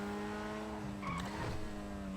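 A car in GTA V Online drives with a steady engine drone, and its tires squeal and skid briefly midway, fairly quiet with no talking.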